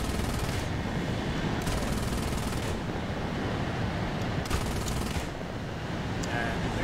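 Sustained aircraft machine gun fire in the War Thunder video game, a dense continuous rattle running the whole stretch with brief bursts standing out, loud and close, with no voices over it.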